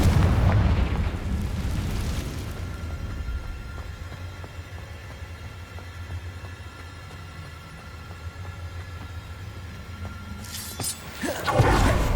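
Confringo explosive spell in Hogwarts Legacy, a heavy blast opening the moment, then a long low rumbling tail, before a second sharp explosive burst near the end.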